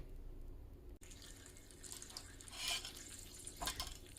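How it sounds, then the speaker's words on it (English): Water running from a tap while hands are washed at a sink, a steady splashing rush with brief louder bursts, fairly faint and heard alone without talk. "I'm going to wash my hands"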